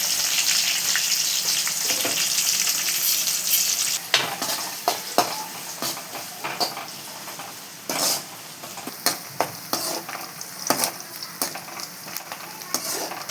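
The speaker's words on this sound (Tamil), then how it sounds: "ஒரு வெங்காயத்தை கட் பண்ணியிருக்கோம்லே, அது நம்ம சேர்த்தாச்சு. இது வந்து நல்லா வதக்கிக்கலாம்" Onion and green chillies sautéing in a pan for Jalebi fish gravy: a soft, steady sizzle that gives way to frequent sharp clatters and scrapes of a spoon stirring against the pan.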